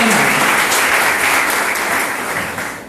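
A crowd at a university political science talk applauds loudly and steadily for a guest speaker, with dense clapping that holds throughout and tapers only slightly at the end.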